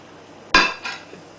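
A plate is set down among dishes in a kitchen: one sharp ceramic clink, then a softer second knock shortly after, close and clear against quiet background.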